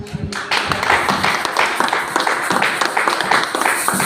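A church congregation claps together in praise of the Lord, making a rhythmic wash of hand claps that stays fairly loud and steady throughout.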